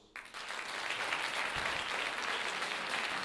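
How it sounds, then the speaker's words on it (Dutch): Audience applause at a music theatre show, starting abruptly and building into loud, steady massed clapping that continues to the end. "Applaus."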